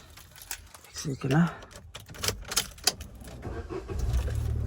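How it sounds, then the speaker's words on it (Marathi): A car door is opened while parked near a temple, with a few sharp clicks and a clunk close by as a person talks over it. "आता गाडीचा दरवाजा खोलतो"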